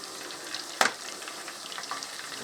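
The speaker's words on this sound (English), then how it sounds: "So I'm going to finish frying all these up." Fish deep frying in hot oil in a pan that is shallower than ideal gives a quiet, steady sizzling hiss, with one brief louder crackle near the start and no voices.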